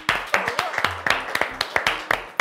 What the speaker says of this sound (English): Show everyone who's watching at home a round of applause.